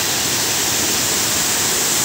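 Water pours steadily at a waterfall, a loud, unbroken hiss of rushing flow filling the whole moment with no other sounds.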